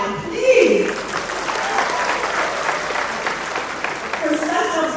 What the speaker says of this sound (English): You all should applaud him, please.